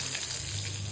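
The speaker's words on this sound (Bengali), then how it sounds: "এখন তো বেগুন ভাজা" Brinjal slices fry in a pan with a steady, close, soft sizzle, a brief continuous crackle with no voices.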